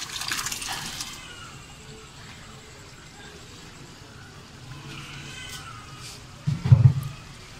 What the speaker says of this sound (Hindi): अब हम इसमें दाल डालेंगे।